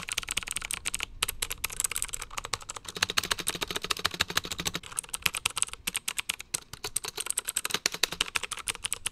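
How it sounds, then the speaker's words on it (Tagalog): Rapid continuous typing on a mechanical keyboard, close and fairly loud, with dense clicky keystrokes and a couple of brief pauses, no voices. "i-sound test na natin itong mechanical keyboard na ito"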